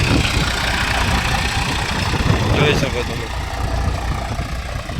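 A tractor engine runs steadily in a farm field on loose, powdery soil, a continuous low rumble with a knocking idle texture that stays fairly loud throughout, with someone talking over it.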